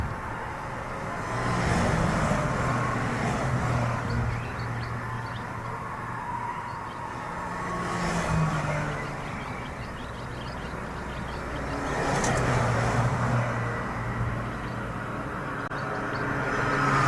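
Race car at a 24-hour endurance event at Silverstone, droning along the pit lane near the 40 mph speed limit, with a steady engine hum that swells and fades in waves over a long stretch.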